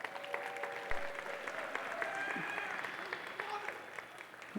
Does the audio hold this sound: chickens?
no